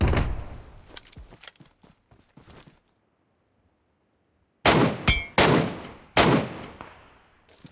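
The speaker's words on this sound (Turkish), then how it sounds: "Bu tepeden biri sıkıyor onları ama." Gunfire in the mobile battle royale game PUBG Mobile: two clusters of sharp, loud shots, several quick cracks, then a few seconds of near silence before more heavy, ringing bursts.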